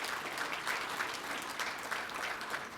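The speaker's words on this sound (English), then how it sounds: "Let's give them a round of applause." Conference audience clapping at a conference opening, a dense, even patter of applause at moderate distance, lasting a few seconds without speech.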